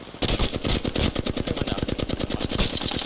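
Sustained automatic weapon fire in Apex Legends, a rapid, steady stream of loud close shots running almost unbroken for three seconds.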